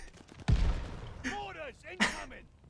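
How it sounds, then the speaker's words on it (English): Mortar blasts land in Call of Duty Vanguard. A heavy boom comes first and a second hit follows, with whistling effects and game noise between them. "And there's mortars"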